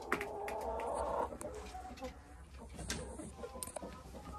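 A hen clucks softly nearby in a farmyard, a short burst of clucks followed by quieter scattered calls over steady outdoor background noise.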